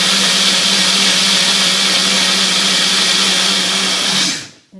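A kitchen blender whirring continuously and loudly at a steady pitch while blending a sweet raw-food treat, running alone for several seconds before cutting off abruptly.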